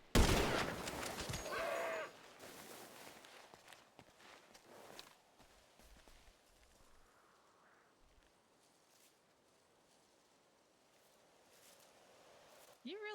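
Video game gunfire in a PurpleRP role-play session: a loud burst of rapid shots up front, then quieter scattered shots and footsteps, with people talking throughout.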